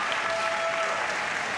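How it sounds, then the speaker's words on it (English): Dense audience applause at a Classic Tetris World Championship match, steady and even throughout, with no talk over it. "round of applause for Myles here"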